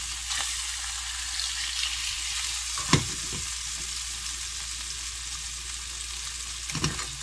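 Scallops searing in a pan over fairly high heat, a constant soft sizzle with a couple of brief louder spits and clatters, heard close and alone without speech.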